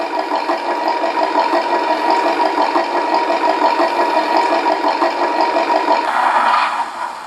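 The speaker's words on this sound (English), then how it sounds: "so now we have engine sounds." A synthetic engine sound from a Beier USM-RC-2 RC sound controller idles with a steady, rapid rattling pulse, a slight rise in tone near the end before it fades.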